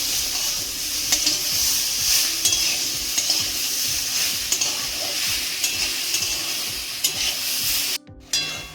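Ridge gourd and potato stir-fry in a pan, a close, continuous sizzle with repeated scraping and stirring strokes of a utensil against the pan, briefly cutting out near the end.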